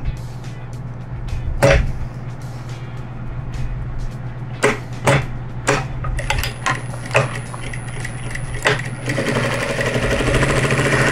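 A sewing machine runs a seam on a crazy-patchwork placemat, with scattered clicks and a steady low hum at first, then a fuller, continuous whirring stitch near the end, close and fairly loud.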